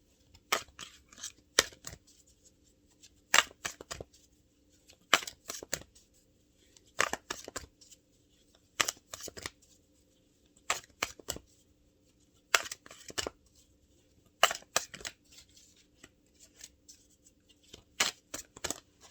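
Tarot cards being shuffled by hand, quiet crisp riffling bursts repeating in irregular clusters every second or two against a faint steady background hum.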